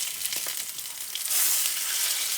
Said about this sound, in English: so you're going to flip the fish over.